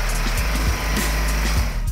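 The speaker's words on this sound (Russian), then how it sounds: "В ход идет специальный кран и бензопила." Petrol chainsaw running steadily at full roar while cutting a bull carcass in half at a sausage plant in Tajikistan, a loud continuous drone with slight pitch dips, close and alone.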